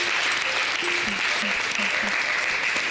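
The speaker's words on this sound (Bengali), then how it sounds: "হাততালি।" A crowd claps in a dense, sustained burst of applause at a neighbourhood competition event. A faint voice or tonal sound runs quietly beneath the clapping.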